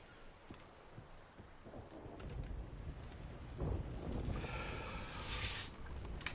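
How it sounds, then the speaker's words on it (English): Thunderstorm with falling rain: a faint, steady rain hiss carries scattered rumbles of thunder that swell in the middle and then ease, heard alone without talking and fairly quiet and distant. "Man, that storm sounds really aggressive."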